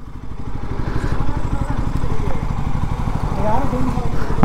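Motorcycle engine running with a steady pulsing, rumbling idle close by while the bike is loaded up, continuous throughout with a voice speaking over it.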